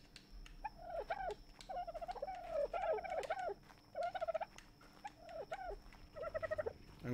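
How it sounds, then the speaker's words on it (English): Dodos in the Ark Survival Evolved video game give repeated gobbling, warbling bird calls in short bursts over a low background hum, fairly faint and with no talk. "That annoying noise you can hear is the dodos."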